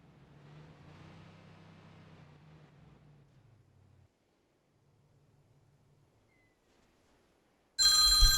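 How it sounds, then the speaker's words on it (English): A mobile phone rings abruptly and loudly at the end, cutting in bright and sharp after a stretch of low rumble and near silence. "sorry guys, I thought my phone was on silent."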